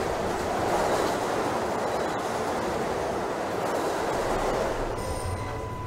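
A Queensbound J local subway train in Trainz Simulator 2012 rumbles steadily along the track, a continuous loud roar of wheels and motors with a brief squeal near the end.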